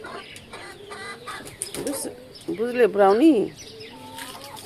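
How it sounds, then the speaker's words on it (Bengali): A hungry chicken clucks and calls in a short run of nasal, wavering notes that grow louder toward the middle, with a person speaking briefly at the start. "মুরগি কি চাই যে আমাকে খেতে দাও।"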